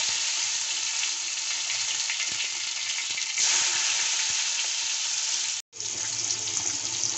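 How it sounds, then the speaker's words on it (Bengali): Cumin seeds and chopped tomatoes sizzle steadily in hot oil in a home kitchen pan, a loud continuous frying hiss with a brief break near the end before it resumes. "তেল গরম হয়ে গেছে, দিয়ে দিচ্ছি জিরে ফোড়ন, দিয়ে দেবো কেটে রাখা টমেটো"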